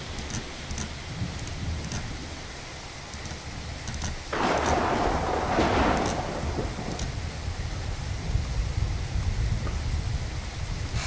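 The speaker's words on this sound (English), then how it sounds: "this map was supposed to have background sounds of a storm" Thunderstorm ambience for a sci-fi video game map: steady rain hiss with a rolling rumble of thunder swelling midway and lingering for a couple of seconds, no voices.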